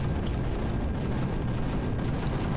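Main cannon of a warship in Empyrion firing repeatedly, a dense rumbling barrage of booms layered with low-frequency gunfire that stays loud and continuous throughout, with no talking.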